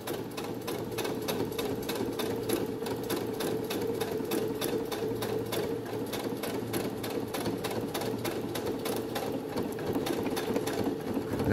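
Sewing machine topstitching around the edge of a fabric card holder, a steady fast mechanical whir with rapid needle clatter running continuously and close up, with no talking.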